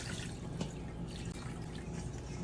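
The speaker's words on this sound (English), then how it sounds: "Then just pour the liquid back in the pot." Chicken soup broth poured back into a cooking pot, a steady splashing and trickling stream with small drips, close and fairly loud.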